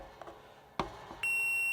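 A Fluke multimeter gives a steady, clear continuity beep after a couple of faint clicks, a sustained high electronic tone near the end while testing a Samsung dryer heater element.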